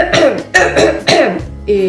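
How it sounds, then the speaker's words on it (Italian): A person gives a few loud, close, wet coughs in quick succession, each one a chesty, throaty burst with short gaps between them. "Infatti la mia è una tosse grassa."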